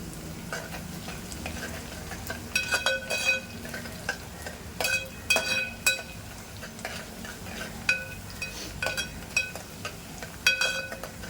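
Onions sizzle in a pan, turning golden, while a utensil stirs them for chole, with clinks and scrapes against the metal over a constant frying hiss.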